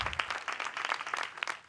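An audience at the GALOL 2019 contest claps for a winner in a brief, fairly faint patter of scattered hand claps.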